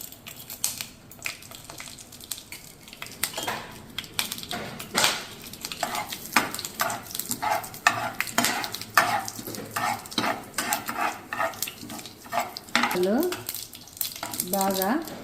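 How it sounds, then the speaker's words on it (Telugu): Tempering spices splutter in hot oil for a boiled egg curry, with bursts of crackling pops and sizzle mixed with stirring scrapes in the pan, up close and uneven. "పోపు వేస్తున్నానండి"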